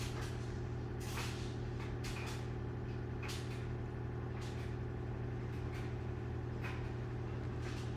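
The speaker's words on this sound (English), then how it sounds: "My washer is going." Continuous low mechanical hum and rumble of a washing machine, with intermittent clunks and thumps from the drum, steady and moderately distant.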